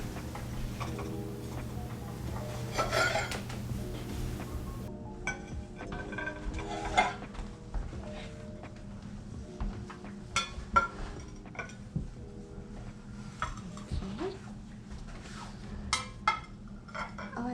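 Plates are set down on a table being decorated for Thanksgiving, with scattered clinks and light knocks of dishware at an irregular pace, close by and moderately quiet, with no talking.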